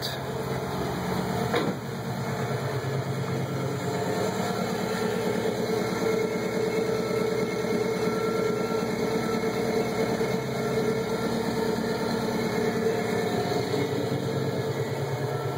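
A 2006 Subaru WRX with an aftermarket downpipe and exhaust idles steadily after a cold start with a deep, low rumble, continuous and fairly loud throughout, with no talking.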